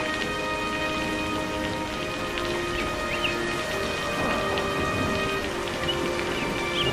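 Steady cartoon rainfall, a continuous hiss of drops on surfaces with a faint distant rumble, alone and constant throughout.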